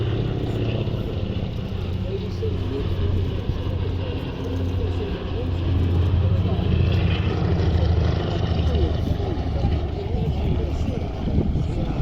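A Lockheed 12A Electra propeller aircraft flies at the East Kirkby airshow, its engines producing a steady, droning rumble that holds throughout with slight swells in loudness and no other prominent sound.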